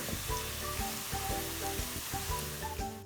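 Onions frying in oil until golden brown for chicken qeema, a close, steady sizzling hiss with faint rhythmic tones underneath.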